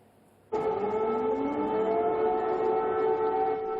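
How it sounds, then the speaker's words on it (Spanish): An air raid siren in Ukraine starts abruptly and holds a loud, steady wail with a slowly shifting pitch, continuing without pause. "Las sirenas de alarma sonaron esta madrugada en Kiev y en Kharkov."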